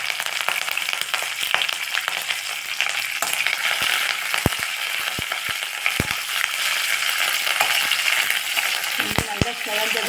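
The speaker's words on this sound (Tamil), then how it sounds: "கொஞ்சம் கருவேப்பிலை போட்டுக்கலாம்." Curry leaves and broken dried red chillies frying in hot oil in a pan, a continuous crackling sizzle with sharp pops and occasional clicks of a spoon.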